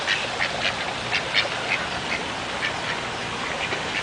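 Ducks at El Encanto pond in Cave Creek, Arizona, quacking in a string of short, fairly close calls over steady outdoor background noise.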